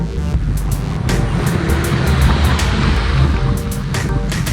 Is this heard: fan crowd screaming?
no